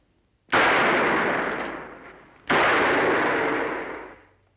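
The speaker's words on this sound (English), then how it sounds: "Now, this is my 45. I'm going to fire a couple of bullets into that bale of hay." Two loud .45 revolver shots fired into a hay bale, each a sharp blast followed by a long reverberant decay, spaced about two seconds apart, with no voices.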